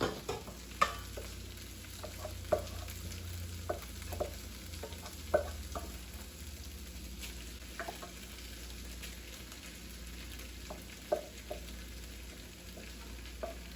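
Ground beef frying in a pan with Bam chili mix stirred in, a steady sizzle under scattered scrapes and clicks of a utensil moving the meat, close and moderately loud with no talking.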